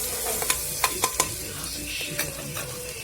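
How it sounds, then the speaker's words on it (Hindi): Chopped onions stir-fried in a pan as the base for rajma, a steady sizzle broken by several sharp scraping clicks of a spoon or spatula against the pan, with no talk. "हल्का सा इसको स्टर फ्राई करें।"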